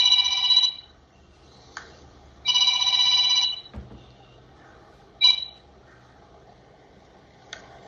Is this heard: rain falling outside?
no